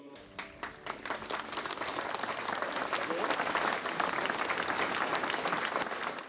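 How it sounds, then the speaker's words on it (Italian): Applause from mourners as the coffin of a young father named Manuel is carried out of a church after his funeral, a few claps at first swelling into sustained, distant-sounding clapping. "Un applauso ad accompagnare Manuel fuori dalla chiesa"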